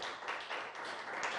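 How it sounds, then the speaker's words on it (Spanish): A church congregation claps together in a brief, dense burst of applause that carries on steadily without a break. "Denle un aplauso al Señor."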